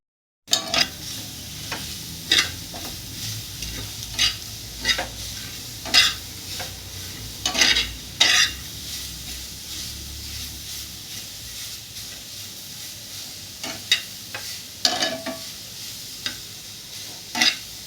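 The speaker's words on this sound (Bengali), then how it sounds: "এখানে মরিচগুলো টেলে নিয়েছি, এখানে রসুন আর পেঁয়াজ দিয়েছি, এগুলোকে সুন্দর করে টেলে নিব।" Chillies, garlic and onion fry in a pan for a dried-fish mash, giving a steady, fairly loud sizzle broken every second or two by sharp stirring scrapes and clinks.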